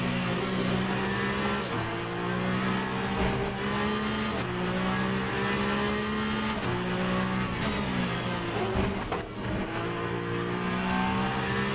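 A hypercar engine screams at racing speed around Le Mans in the Le Mans Ultimate video game, a steady, loud high-revving drone with shifting pitch and brief tire squeal, holding for about twelve seconds with a short dip near the end.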